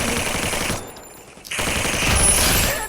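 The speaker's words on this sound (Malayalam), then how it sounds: "ഇനി വേറെ ഏതോ വെടീൻ്റെ ശബ്ദം ഞാൻ കേട്ടായിരുന്നു" Rapid automatic gunfire in the mobile battle royale game Free Fire, loud bursts that cut out briefly and then resume as sustained firing.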